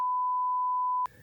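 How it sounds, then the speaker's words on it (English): A censor beep covers a spoiler, a single loud steady pure tone held for about a second before cutting off abruptly into quiet room noise. "I'll beep it out."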